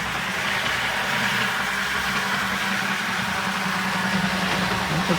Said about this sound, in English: Motor commutator makes a light squealing noise.